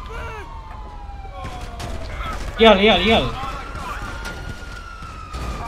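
Police car sirens wail in GTA V Online during an Avenger mission chase, a brief louder burst cutting through the steady talk of players.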